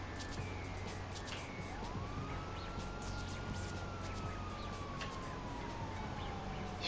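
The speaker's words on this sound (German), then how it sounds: "hier fährt einer mit Polizeiauto rum" A police car siren in GTA 5 Online wails in a single long rising-and-falling sweep at middle distance, over steady game ambience and engine rumble.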